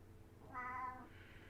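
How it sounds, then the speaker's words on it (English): A cat gives a single short, clear meow at moderate distance, standing out against a quiet room background with no talking. "She says, meow."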